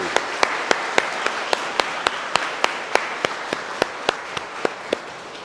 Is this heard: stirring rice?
no